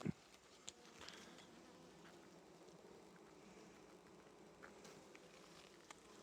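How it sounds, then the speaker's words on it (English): Honey bees buzz steadily around an open hive while a queen is being marked, a continuous close insect drone with a few brief louder bumps. "Let's get these bees away from her."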